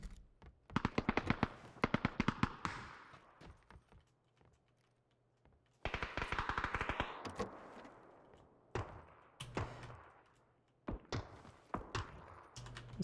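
Video game gunfire from teammates, clusters of sharp rapid shots crackling in scattered bursts with quiet gaps between them, moderately faint and mixed with clicky tapping.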